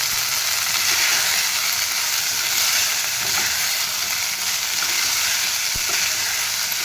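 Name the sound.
cumin seeds crackling in hot oil for jeera rice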